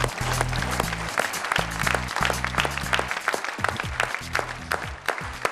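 An audience applauds a poetry and comedy show marking its 400th episode, a steady wash of many hands clapping under a rhythmic musical beat, with no voices over it.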